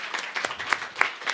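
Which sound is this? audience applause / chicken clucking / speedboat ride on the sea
audience applause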